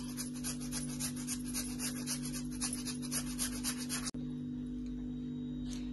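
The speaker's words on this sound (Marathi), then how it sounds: "एक बटाटा स्वच्छ धुवून साल काढून घेतलेला आहे, तो पण आपल्याला आता ह्याच्यामध्ये किसून घ्यायचा आहे" A peeled, washed potato rubbed against a grater for rajgira paratha, making steady, rhythmic scraping strokes close up that stop abruptly near the end, leaving quiet background hum.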